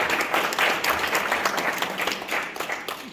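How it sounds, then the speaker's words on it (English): Audience applause at an artist talk in a gallery, a crowd of hands clapping steadily and fairly loudly at close range, thinning slightly toward the end, with no speech over it. "clap for her"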